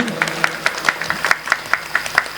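A school-hall crowd at an awards gala gives a brisk burst of applause, with sharp, regular claps ringing out close and loud, and faint voices underneath.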